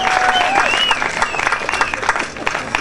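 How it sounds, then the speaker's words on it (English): Crowd applause at a Mardi Grass street parade in Nimbin, a dense wash of clapping with whistles and cheers above it, fairly loud and continuous throughout. "Please give him some sort of applause"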